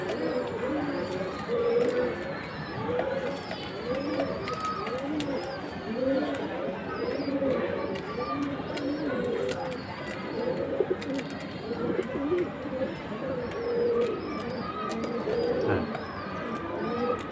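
Maidom pigeons cooing in a loft, a dense, continuous chorus of overlapping soft throaty coos from several birds, moderately close, with faint voices in the background.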